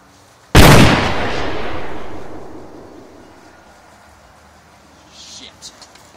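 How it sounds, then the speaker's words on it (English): A 9 Ball Shootout arcade cabinet plays a gun-cocking effect when a quarter goes in: one sudden, loud, sharp mechanical crack that rings out and fades over about two seconds, followed by faint scattered clicks. "inserting a quarter, you hear the odd sound of what appears to be a gun being cocked"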